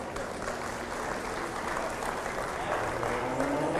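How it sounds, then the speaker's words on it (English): Steady audience applause at a fair's breeding show, a soft, distant wash of clapping from a crowd that holds evenly throughout, with faint voices underneath. "Let's give these three exhibitors in our breeding show a round of applause."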